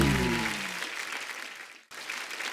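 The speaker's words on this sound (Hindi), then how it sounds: "जो हमारे असली शायर हैं उनके लिए दिल खोल के तालियां।" A comedy TV show audience breaks into steady applause at a poetry-roast segment. The clapping starts under a fading voice, cuts out for an instant, then resumes at a moderate level.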